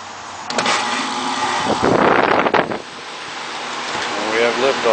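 A newly replaced HVAC condenser fan motor starts up outdoors and spins with a rising whoosh of air and hum, with a loud burst of rushing air midway and wind buffeting the microphone.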